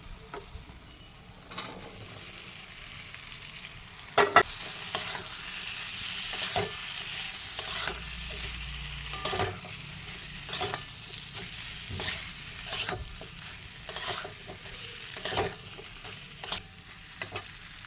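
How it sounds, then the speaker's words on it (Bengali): Fried potatoes and eggs stirred into a sizzling spice masala for an egg curry with potatoes, a steady close frying hiss broken by repeated sharp scraping clacks of a spoon against the pan at irregular intervals, with no talking. "এখন আমি ভেজে রাখা আলু আর ডিমটা দিয়ে দেবো"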